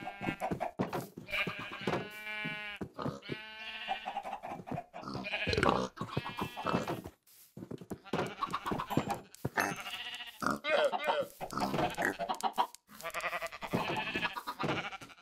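Minecraft sheep bleat repeatedly and loudly, several overlapping calls in quick succession with brief pauses between them.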